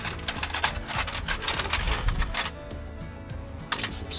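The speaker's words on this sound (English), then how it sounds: "Some screws." Metal screws rattled and clinked by hand among hardware in an abandoned storage locker, a dense jangle of small metallic taps that thins out toward the end.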